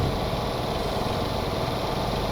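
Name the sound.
turbocharged diesel locomotive engine running, Metra F40PH-3 in video game Stormworks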